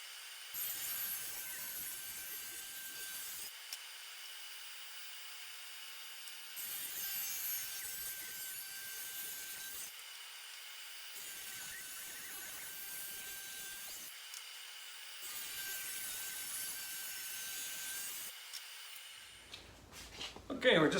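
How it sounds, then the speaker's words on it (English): Power saw cutting wood boards for a console table, four separate cuts each with a whining blade and rasping bite into the wood, spaced by brief quieter spinning gaps. "So I'll just kind of get the saw set up for that and make these last 4 cuts."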